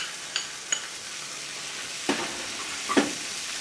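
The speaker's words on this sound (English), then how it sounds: "Now I'm going to add some fire roasted diced tomato" Fire roasted diced tomatoes being stirred in a frying pan, with a few scattered utensil scrapes and soft sizzling over a quiet background.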